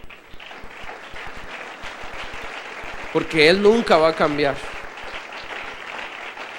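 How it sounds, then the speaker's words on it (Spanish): A church congregation applauds for the Lord, a steady patter of many hands that runs through the whole stretch while a preacher keeps speaking in Spanish over it, his voice rising in the middle. "Denle un aplauso al Señor"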